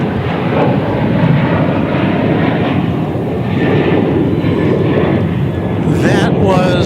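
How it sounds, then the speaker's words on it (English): An American Airlines jet taking off at DFW Airport makes a loud, steady roaring rumble for several seconds, with a whistling turbine whine rising near the end. "That was American Flight 1208 to Burbank."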